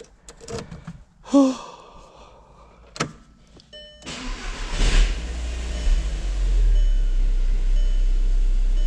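A Volkswagen car engine starts with an unprogrammed key after a few clicks and interior chimes. The starter cranks briefly, then the engine settles into a steady, close idle hum that lasts to the end.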